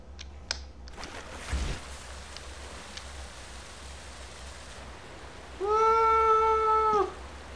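A cat meows once, near and clear, a steady drawn-out call lasting over a second, coming after a long stretch of quiet room hiss with a few faint clicks; in the setting of a Black Mesa game session.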